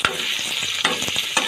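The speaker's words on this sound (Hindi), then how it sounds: "तवे के ऊपर जो है 1/2 कप ऑयल लेकर इसका वो गरम किया है। अब इसके अंदर हम अनियन ऐड करेंगे।" Half a cup of hot oil sizzles steadily on a tawa as one and a half chopped onions fry, with a few scraping stirs breaking through the close, continuous hiss.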